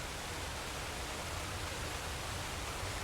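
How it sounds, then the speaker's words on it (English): A game waterfall rushes in a sheltered cliffside settlement, a constant broad roar of falling water that stays steady and unbroken, with no voices. "And a waterfall."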